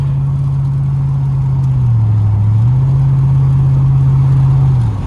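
From inside the cab, a 2006 Chevrolet Silverado with its muffler deleted rumbles with a loud, deep, steady exhaust drone that dips slightly in pitch midway and then settles back.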